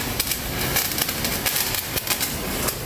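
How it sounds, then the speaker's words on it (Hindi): Diwali phuljhadi sparkler burning with a steady fizzing hiss broken by rapid, irregular sharp crackles and snaps, heard up close without talk. "इसमें तड़ आवाज आ रही है क्योंकि ये प्लेन है"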